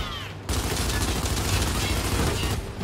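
Sustained burst of automatic gunfire during a Gears of War tutorial, dense and continuous after a brief quiet start, with game sound effects layered in.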